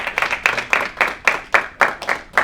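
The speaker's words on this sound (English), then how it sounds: "give a round of applause to Jose Gonzalez." At a networking event, the audience breaks into applause heard as a steady, evenly spaced run of sharp claps, close and fairly loud, with no voices over them.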